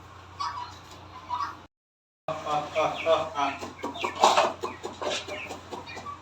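Chickens cluck in short bursts around a household, with people talking over much of it and a brief silent gap near the middle.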